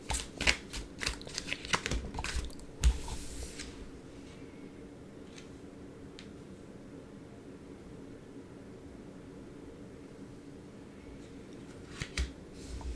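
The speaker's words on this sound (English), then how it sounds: "Let's shuffle." Tarot cards are shuffled and drawn during a reading, a quick run of close crisp riffling snaps and flicks followed by a long quiet stretch, then a couple more sharp card slaps near the end.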